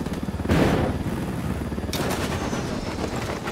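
Video game gunfire, loud rapid bursts of shots opening abruptly and continuing as dense crackling fire with a second volley near the end, no talk.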